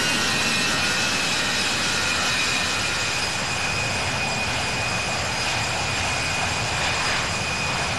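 Jet airliner engines roar steadily during takeoff in the flight simulator game Infinite Flight, a continuous broadband rumble with a high whine, loud and unbroken with no talk.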